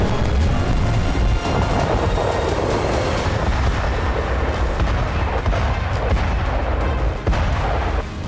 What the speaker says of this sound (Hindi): हर मिनट बारूदी धमाका